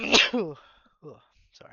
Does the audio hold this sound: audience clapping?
no